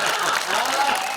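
Audience applause at a live Hindi comedy talk, a dense wash of clapping heard close and fairly loud, filling the whole brief moment without a break.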